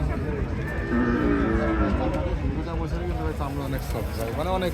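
Murrah buffalo bulls low repeatedly in deep, drawn-out calls close by, with human voices and crowd murmur mixed in among the animals.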